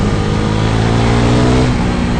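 A Husqvarna Vitpilen 401 single-cylinder motorcycle pulls hard under acceleration, its engine droning loud and close with a steady rising tone and no speech over it.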